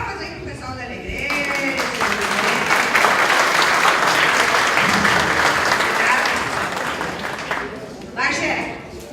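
A crowd at a university event claps steadily for several seconds, swelling then tapering off, with a voice speaking Portuguese over the start and end.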